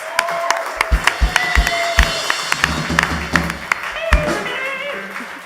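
Scattered clapping and some cheering come from a small audience at a local live music show in a venue, with loud individual claps close by and a few voices in the room.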